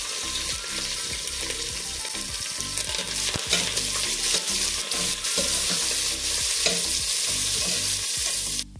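Onion frying in a pan with green chillies and curry leaves for shavige uppittu. It makes a loud, steady sizzle throughout, with rhythmic stirring scrapes close by and no voices.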